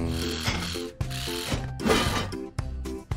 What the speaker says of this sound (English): Let's fix the hubcap. The wrench is right at the top.